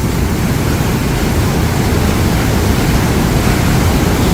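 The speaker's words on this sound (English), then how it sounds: "There's a lot of wind blowing. I'm sure you can hear it on the camera." Strong wind buffets the microphone near the waterfalls of Yosemite Valley, a constant loud broadband rush with no break, likely blended with falling water.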